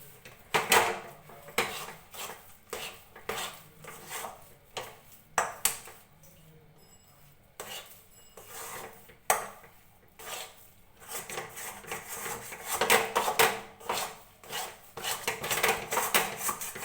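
A spatula scrapes and knocks against a pan while sweet sandesh is worked into a mixture, giving irregular clinks, scrapes and taps that come in bursts and are louder toward the end.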